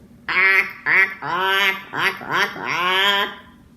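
A duck quacks loudly and close by in a run of five drawn-out, nasal calls with short gaps between them, heard on its own without talk.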